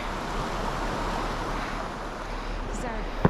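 Steady rushing water fills a pool below waterfalls along a hiking trail, a broad continuous wash close by with no speech.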